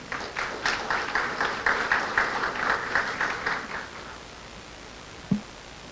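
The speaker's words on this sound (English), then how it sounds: "A round of applause for our guests, ladies and gentlemen." A round of applause from the audience for guests, including a consul general, at an evening presentation at Bonnyrigg, sustained dense clapping for about four seconds that fades out, followed by a single thump.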